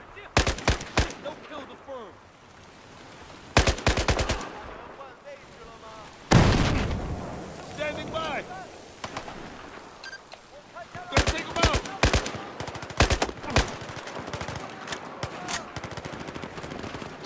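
Gunfire from the video game Battlefield 4 comes in sharp, separated bursts and single cracks, with a loud impact midway followed by rapid clusters of shots toward the end.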